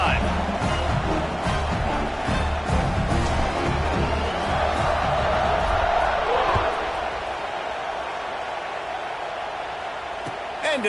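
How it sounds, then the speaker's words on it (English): A football stadium crowd roars after a touchdown drive as the kickoff unit takes the field, a loud, sustained wash of cheering that eases slightly toward the end, with commentary over it. "this crowd is feeling themselves after that last drive"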